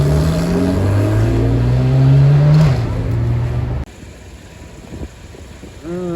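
A supercar accelerates along a Paris street, its engine note rising loud and close for a few seconds, then cutting off abruptly, with a fainter engine whine sweeping upward at the end.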